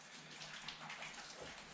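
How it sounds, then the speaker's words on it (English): Shower water sprays in a steady, hissing rush as someone is washed after being out in the mud. The splashing is continuous and close, with no voices over it. "He's getting a shower."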